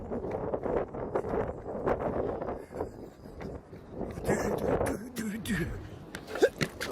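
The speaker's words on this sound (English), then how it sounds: "All right guys, it's windy." Wind buffets a microphone in rough, rumbling gusts, steady throughout with brief louder bursts near the end.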